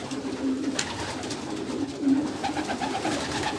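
Domestic pigeons cooing steadily in a loft, several low rolling coos overlapping at moderate distance with no talk.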